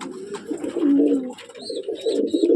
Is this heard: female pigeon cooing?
yes